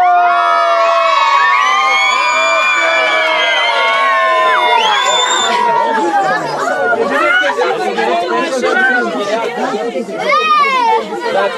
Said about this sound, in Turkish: Bağırın, bağırın bakalım.